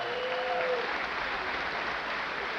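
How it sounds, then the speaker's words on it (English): After a boxing bout, an arena crowd applauds the winner with a steady wash of clapping, loud and dense for a few seconds with a faint voice briefly audible at the start. "Let's hear it for New York City's Tony Frazier"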